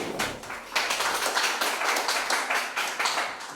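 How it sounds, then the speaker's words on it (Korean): A seminar audience at a North Korea policy forum claps together in a dense, steady burst that stays loud and close throughout, with sharp individual claps standing out in the wash. "일단 시작하기 전에 박수 먼저 한번 쳐주세요."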